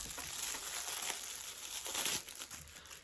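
Plastic bag crinkling up close, a steady rustle with sharper crackles throughout, no voices.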